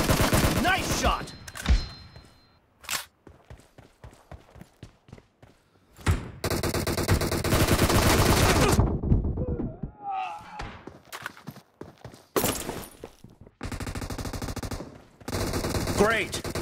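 Bursts of automatic gunfire from the battle game PUBG in Team Deathmatch mode, loud and close, coming in several separate volleys with short pauses and thumps between them.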